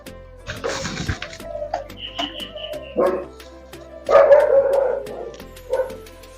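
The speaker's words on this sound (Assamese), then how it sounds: "ইমান বম ডাঙৰ কুকুৰ" A big dog barks loudly and close by, several deep barks with pauses between them, mixed with a few whining yelps.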